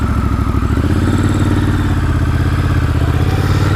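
A 2019 Triumph Scrambler 1200 XC motorcycle engine running steadily nearby, a loud continuous low throbbing rumble with a fast regular pulse, heard alone with no talking.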